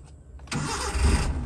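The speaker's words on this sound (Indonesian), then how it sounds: "di sini enak banget untuk starternya ini ya bahkan nggak perlu ngocok nih" A Suzuki Carry 1000 starts up: a brief starter crank gives way to the engine catching and running with a loud, steady rumble close by, and no voices are heard.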